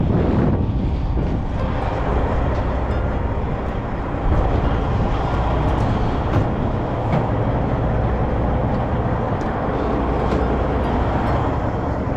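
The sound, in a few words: strong wind blowing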